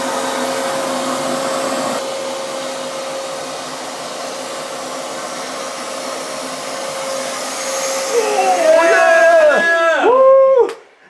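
A loud vacuum cleaner drones steadily, its pitch wavering and sliding near the end before the motor cuts off abruptly.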